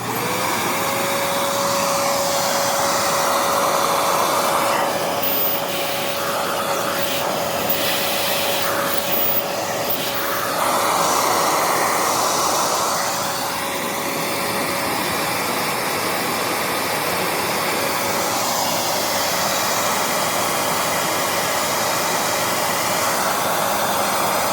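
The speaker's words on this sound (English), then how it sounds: "So listen to how much airflow this power nozzle has." Prolux X8 Elite backpack vacuum running with its EBK250 power nozzle, a loud steady roar of rushing airflow with a sustained motor whine, some fluttering changes midway, no talking.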